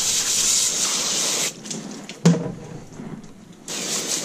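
Tap water pouring steadily over crappie fillets being rinsed, a broad hissing rush that cuts out midway, with a brief splash and handling noise, then starts flowing again.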